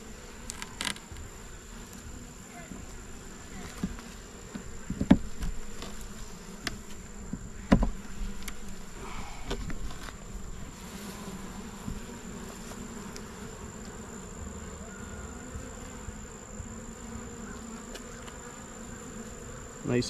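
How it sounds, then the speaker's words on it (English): Honey bees buzz steadily around an open hive as a center frame is pulled during an early November inspection, a close, continuous drone broken by a few knocks and clicks of handling. "So let's pull a center frame."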